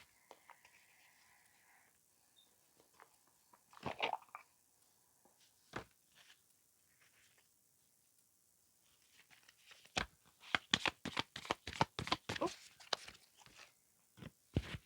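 Confirmation cards being shuffled, a quiet rustle early on, then a burst of rapid, crisp card riffles and flicks close by toward the end, with no talking.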